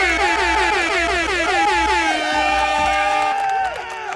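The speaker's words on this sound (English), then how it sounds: "I'm gonna give you this air horn" A loud, sustained air horn blast blares close by with a bright, slightly wavering tone, ending abruptly after about four seconds.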